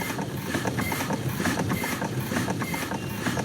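A 1902 Curved Dash Oldsmobile engine runs with the spark retarded, a dense, steady mechanical chatter of rapid ticks and rattles close by, with no talk over it.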